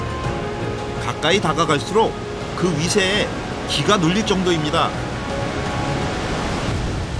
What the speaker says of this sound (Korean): 폼파팽 폭포.